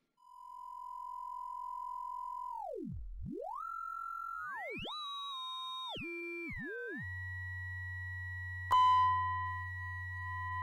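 A synthesizer sine wave tone that holds steady, dips sharply, then glides and steps through several pitches before settling into a low hum with a faint high tone above, ending on a brief click.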